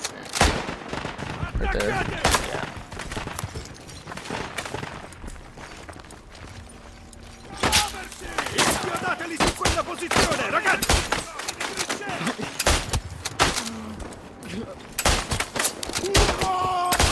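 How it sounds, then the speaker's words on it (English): Rapid machine gun fire roars in the World War I shooter Isonzo, loud and sustained in long bursts with brief pauses and scattered distant shots, while a voice talks briefly over it. "This is a crazy machine gun spot, dude."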